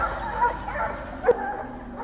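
Hunting dogs, such as Catahoula, Blackmouth Cur or Pit Bull types used on wild boar, give a couple of short yipping barks and whimpers at moderate distance over steady background noise.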